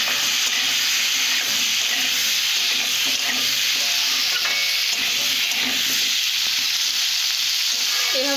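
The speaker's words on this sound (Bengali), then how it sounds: "এইভাবে কিছুক্ষণের জন্য ভেজে নেব," Potato pieces stir-fried in a pan, a steady close sizzle with scraping stirs throughout and no talking.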